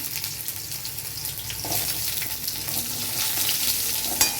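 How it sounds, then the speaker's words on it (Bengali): Potatoes drop into hot oil already seasoned with cumin and bay leaf, and a steady loud sizzle builds and holds, with faint stirring clatter and a sharp knock near the end. "তেল গরম হয়ে গেছে, এবারে আমি জিরা, তেজপাতা সম্বারে দিয়ে দিচ্ছি। এবারে আলুগুলো ছেড়ে দিলাম।"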